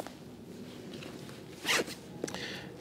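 A zipper on an umbrella cover is pulled down in one quick, close rasping zip, followed by a shorter second pull.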